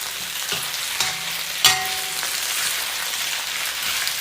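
A breakfast hash sizzles steadily in a Lodge cast iron wok while an old Asian-made metal wok shovel scrapes and clanks against the iron in a few distinct strikes, close and clear, with no voices.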